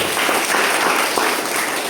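Classroom applause for a student named Eka, a dense steady wash of clapping from a group of pupils lasting about two seconds at a fairly even level, with no clear talk over it.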